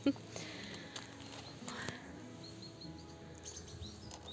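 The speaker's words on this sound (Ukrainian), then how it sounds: "А пташки співають, як сонечко вийшло" Birds chirp and tweet faintly in the distance over a soft outdoor background, with a few scattered calls throughout.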